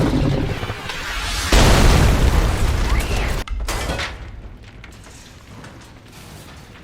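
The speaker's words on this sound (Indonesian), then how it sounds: "Leon datang dan dengan cepat menembak monster itu dengan bazooka" A bazooka shot and explosion in a Resident Evil: Welcome to Raccoon City film scene: a loud, dense blast burst with debris and mechanical clatter that drops abruptly, then a rumbling tail fading over several seconds.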